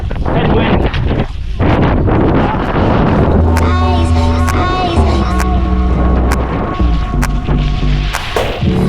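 Strong headwind buffets the microphone during a cross-country ski race, loud continuous rumbling gusts with a steady tonal hum running beneath.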